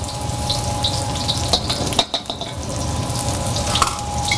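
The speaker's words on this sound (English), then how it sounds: "Just let that saute for about 10-15 seconds." Vegetables sautéing in a smoking-hot pan ahead of shrimp going in: a steady, close crackling sizzle with light stirring scrapes and a brief dip midway.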